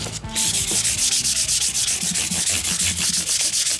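Guitar fret ends being sanded by hand with 1000 grit sandpaper, a close, loud, steady rhythmic scratching of strokes repeating rapidly back and forth throughout with no talk.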